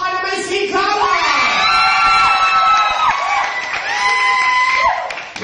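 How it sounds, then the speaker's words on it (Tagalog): A loud audience cheers and shouts throughout, with high whoops and yells rising and falling in overlapping waves. "magpalakpakan na may sigawan!"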